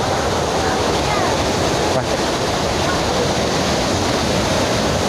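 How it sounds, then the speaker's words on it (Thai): Steady, dense roar of rushing water at Kuang Si Falls near Luang Prabang, Laos, filling the whole clip, broad and continuous like a waterfall heard up close, with no distinct breaks. "นี่ครับเราถึงน้ำตกฟองสีแล้ว"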